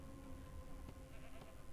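Sheep bleating in the fantasy role-playing game Divinity: Original Sin II, a couple of short faint bleats rising over a steady game ambience with a low music drone, no talk.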